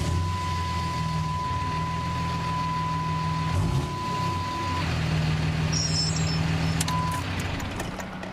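A 2006 Dodge Ram 3500 truck idles with a steady low engine rumble, while a reversing beep tone sounds throughout and a brief hiss follows near the end.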